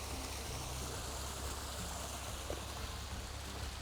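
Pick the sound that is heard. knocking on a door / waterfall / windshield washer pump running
waterfall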